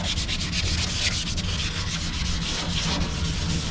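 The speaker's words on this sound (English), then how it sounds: "sanding the door frame up there." Steady, continuous rasping of sandpaper rubbed back and forth over a car door frame, close and even in loudness, with no voices.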